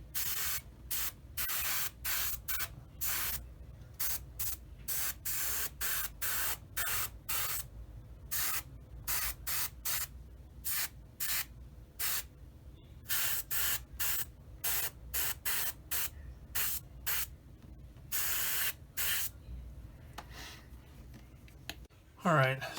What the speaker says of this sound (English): I'm using Buff XF57. I'm going to spray it on there.